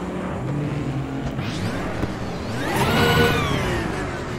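A car engine in an online VR racing game, rumbling steadily, then revving up loudly from about halfway with rising pitch sweeps, heard alone without talk.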